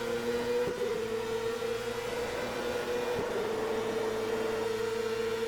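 CART race car engines roar in the Automobilista game at Road America, a loud, steady high-pitched whine held throughout with brief dips at gear shifts, no talking.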